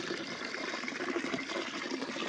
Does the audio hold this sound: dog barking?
no